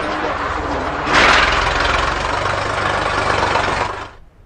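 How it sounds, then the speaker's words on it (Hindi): Tractor rumbling past behind an outdoor reporter, a loud steady engine drone with broadband roar that swells briefly and then cuts off abruptly near the end, with talking mixed in. "आपके पीछे से शायद ट्रैक्टर गई है"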